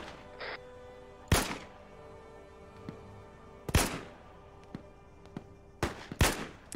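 Indirect artillery fire landing nearby in the military shooter game Squad: several loud, deep booming impacts, single and then a close pair, spaced over a few seconds with fainter thuds and crackle between them.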